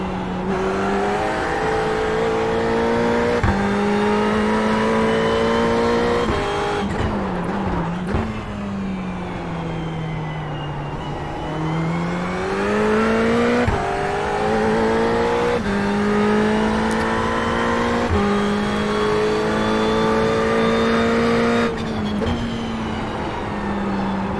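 A Ferrari race car in iRacing at Tsukuba gives a loud, sustained engine note that rises through the gears with repeated shifts, dips under braking for corners and climbs again on acceleration, with no talk over it.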